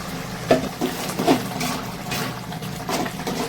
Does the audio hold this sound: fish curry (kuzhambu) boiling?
yes